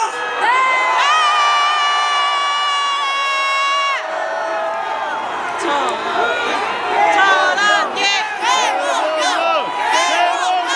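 A large crowd at a political rally shouts and cheers loudly. A sustained chant first gives way to a rougher mass of overlapping shouts and whoops.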